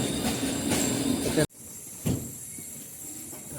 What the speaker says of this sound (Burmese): ဘူတာဝင်ပါပြီရဘူတာဝင်ပါ